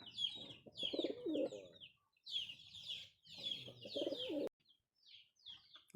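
Shiraz pigeons cooing, several birds giving repeated rolling coos in bursts with short pauses between them, close and fairly loud with no talk.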